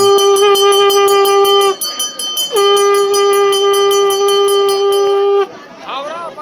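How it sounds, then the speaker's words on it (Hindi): A conch shell is blown at a Kumaoni Hindu wedding, producing two long, loud, steady horn-like blasts separated by a brief pause, with a faint voice speaking near the end. "दुल्हन पक्ष के पंडित जी शंखनाद कर रहे हैं दुल्हन को बुलाने के लिए।"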